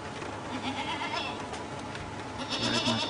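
A goat bleats repeatedly in wavering, nasal cries over a dense, hissy background.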